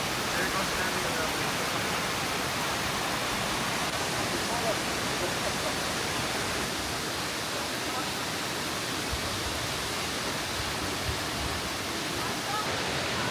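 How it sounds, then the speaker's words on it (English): The main waterfall at Plitvice National Park in Croatia, a dense and constant roar of falling water that holds steady and loud throughout. "So I think this is the main waterfall here at Plitvice."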